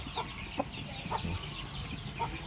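Rhode Island Red and Black Australorp cross chickens cluck in short, separate calls spaced about every half second, fairly close, over a soft background of farmyard hum.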